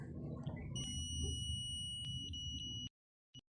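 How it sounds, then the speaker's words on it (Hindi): Continuity-test beep from a multimeter: a steady, loud electronic tone held for roughly two seconds and stopping abruptly, followed by a very brief second chirp, with low background hum and no talk. "तो आपको अब सुनाएंगे इसका जो बीप का साउंड होता है वो कैसा होता है।"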